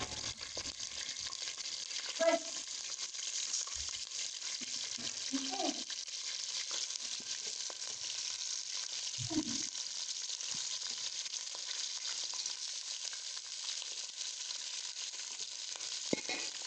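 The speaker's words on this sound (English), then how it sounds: "I'm just going to fry it for like 5 to 10 minutes, because it's already brown." Roasted, already-browned chicken frying in hot oil, giving a steady close hiss of sizzling broken by a few soft pops and low knocks, with no talk over it.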